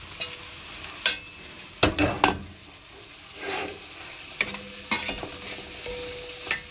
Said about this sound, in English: I will now add them to the pot.